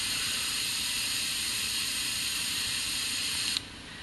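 California Air Tools Ultra Quiet oil-free Syclone 6310 air compressor running, a steady bright hiss with a low motor hum underneath, holding even until it cuts off abruptly near the end, leaving a quieter background.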